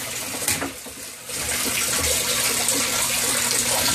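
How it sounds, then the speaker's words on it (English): A Harbor Freight 300 gallon per hour water pump running in a flood-and-drain tank setup, giving a steady rushing, splashing water flow close by that continues throughout after a brief dip. "Simple 300 gallon per hour pump from Harbor Freight."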